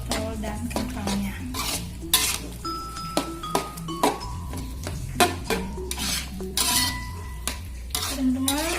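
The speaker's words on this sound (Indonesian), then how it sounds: "Tekan seperti ini biar ayamnya itu enggak bulat-bulat, biar ayamnya itu mencampur serta merata dengan wortel dan kentangnya." Chicken filling with carrot and potato being pressed and stirred in a pan, giving steady scraping and clinking of a utensil against metal with a faint sizzle underneath, close and continuous throughout.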